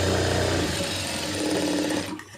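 A sewing machine stitches a seam in one fast continuous run, its rapid mechanical buzz and needle chatter loud and close before stopping abruptly, with no talking.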